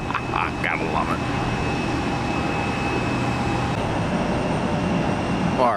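A jet on final approach into Tampa International Airport, arriving from Los Angeles, gives a loud steady roar that fills the whole stretch, with a brief voice at the start.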